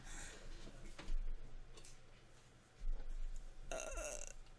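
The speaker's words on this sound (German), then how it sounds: "ich hab schon wieder gerülpst." A burp during a Naruto Shippuden Ultimate Ninja Storm 4 game session, heard as two short low bursts around game music and effects, close and moderately loud.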